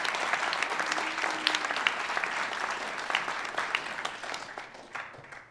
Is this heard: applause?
yes